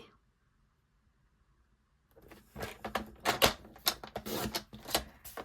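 A card panel being trimmed to size with a paper trimmer follows two seconds of near silence: a quick run of crisp clicks and slicing scrapes, close and moderately loud.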